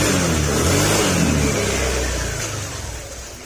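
Honda Click 125 scooter engine revving high on its first start, a steady loud mid-pitched drone that holds for a couple of seconds before easing down slightly.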